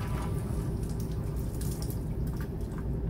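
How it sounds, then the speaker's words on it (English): Water drains from a water heater's pressure relief valve into a bucket, a steady close splashing trickle with light dripping, continuous and fairly quiet with no talk. "let some water flow down into that bucket"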